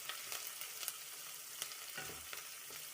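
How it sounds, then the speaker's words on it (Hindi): Chopped onions sauté with asafoetida for an onion-tomato chutney, making a faint continuous sizzle with light scattered clicks of stirring and no talking. "हल्का सा हम सॉफ्ट कर लेंगे प्याज को।"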